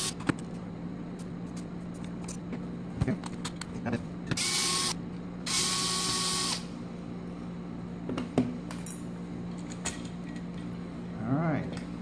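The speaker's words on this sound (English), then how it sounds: "So let's start pulling some screws out here." Screws being removed from a Harbor Freight 1/2-inch battery drill case, with bursts of steady high-pitched whirring from a powered driver, short mechanical clicks and handling noise between them, and a faint hum throughout.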